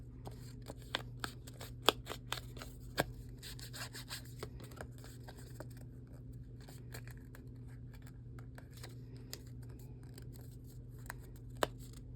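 Scissors snipping the edges of paper ephemera for junk journaling, a scattering of quiet, sharp clicks and cuts close by over a faint steady hum, with no voices.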